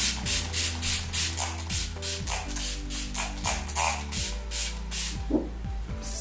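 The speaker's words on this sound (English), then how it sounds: "I'm gonna just spray the primer water" Smashbox primer water misted onto a face from a pump spray bottle, a run of about a dozen short, even hissing spritzes in steady rhythm, close and fairly loud, over a low background hum.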